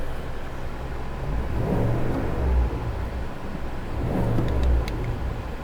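A 2023 Chevrolet Silverado ZR2 pickup engine revs twice in quick succession, each swell rising and falling close by over a steady idle, with no talking.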